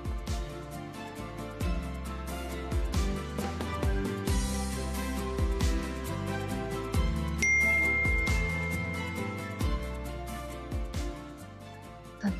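A phone message notification tone rings out as a short, bright chime over continuous dramatic background music in a Marathi TV serial scene.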